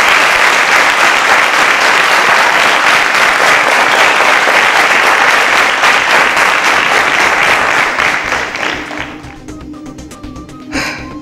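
A quiz-show studio audience gives loud, dense applause for a contestant, steady for several seconds before tapering off abruptly, with a brief burst near the end.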